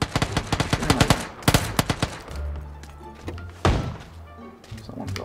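Rapid bursts of automatic gunfire in PUBG, loud and close, fire in quick repeated shots at the start, then give way to scattered thuds and further single shots under a low game drone.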